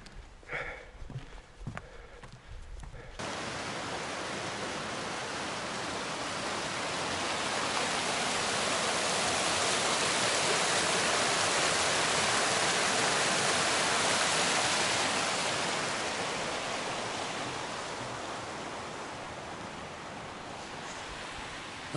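A mountain creek's rushing water pours steadily as a broad hiss, swelling louder in the middle and easing off toward the end, after a few seconds of footsteps.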